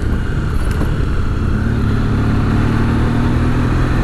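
A Honda Pan-European ST1100 motorcycle engine drones loudly and steadily at close range, its even rumble blended with rushing wind.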